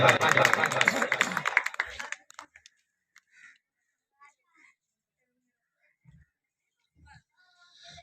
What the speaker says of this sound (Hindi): भरपूर तालियां बजा दे चौधरी जफर इकबाल बाजवा का